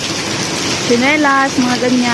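Heavy rain pours down steadily, a loud hiss of falling water heard up close while someone speaks over it.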